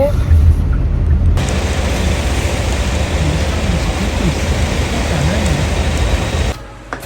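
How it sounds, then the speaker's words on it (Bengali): Steady rain falls outside a home in Korea, a dense even hiss that starts abruptly, holds at constant strength for about five seconds and then cuts off, with a low rumble beneath it. "বাইরে বৃষ্টি পড়তেছে"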